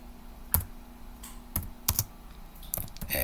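Keystrokes on a computer keyboard while entering text into a CorelDRAW church flyer design, a few sparse, close clicks and taps in an irregular rhythm, ending in a quicker burst of typing.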